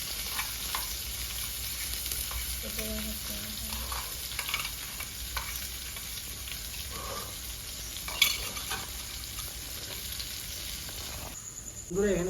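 Dry chillies, cinnamon, cloves, whole cumin and onion fry in mustard oil in a pan, giving a steady close sizzle with occasional spoon scrapes and clinks against the pan, a brief louder clatter near the end.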